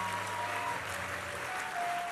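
A church congregation claps during a lively worship service, a continuous wash of hand claps at moderate level with sustained tonal music or singing beneath.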